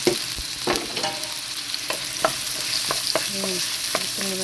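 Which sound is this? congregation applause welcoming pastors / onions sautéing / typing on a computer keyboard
onions sautéing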